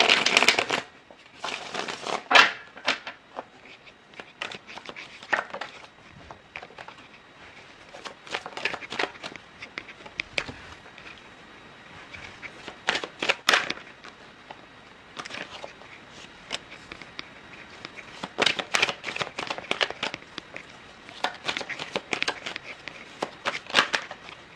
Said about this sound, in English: While I was shuffling